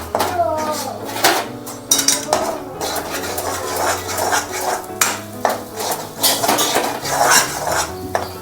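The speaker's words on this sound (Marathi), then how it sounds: "अर्धा चमचा घाटी मसाला टाकणार आहे चांगला असं मिक्स करून घेणार आहे" Ghati masala being mixed into mutton in a metal pot, with repeated clattering scrapes and knocks of a spoon against the pot in an uneven rhythm, fairly loud and close, with no voices.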